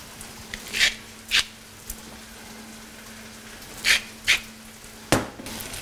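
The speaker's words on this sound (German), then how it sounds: "Und legen das in die heiße Pfanne." Sharp bursts of sizzling crackle flare up several times over a quiet hiss as a seasoned pork steak fries in a hot pan, with calm gaps between the bursts.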